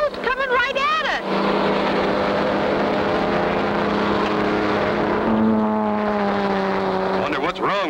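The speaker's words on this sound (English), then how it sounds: "A big boat's coming right at us!" A powerful speedboat engine roars close by as it races past, a steady, throbbing drone, while excited voices shout over it.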